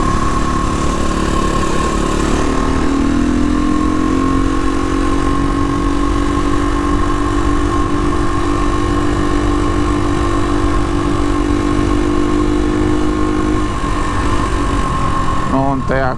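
A single-cylinder motorcycle engine pulls hard while overtaking, a loud, buzzing, harmonic drone that rises in pitch as the bike accelerates and then holds steady, with a voice heard faintly at times.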